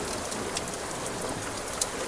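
Heavy rain beats steadily on a hilsa fishing boat at sea, a close, continuous hiss of drops with one brief sharper tap near the end, and no voices.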